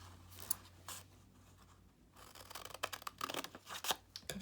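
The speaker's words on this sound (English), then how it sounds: "you're gonna make one little scissor cut" Scissors cutting along the folded edge of paper: a few quiet, close snips and crisp paper rustles, the cutting growing busier toward the end.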